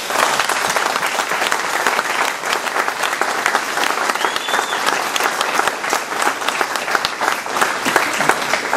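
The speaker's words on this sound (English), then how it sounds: "he deserves a round of applause." Loud, dense applause from the audience at a post-fight boxing press conference, sustained steady clapping from many hands with no pauses, close and full throughout.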